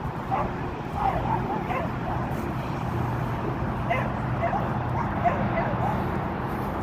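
Several dogs, including a Labrador and a mix, yip and bark in short bursts at a park, close by. Steady outdoor noise sits beneath them, along with occasional faint voices and a distant car.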